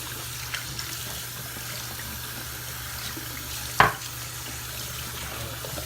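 Shave soap lather is rinsed off a hand under a steady stream of running water, with a single sharp knock about two thirds of the way through.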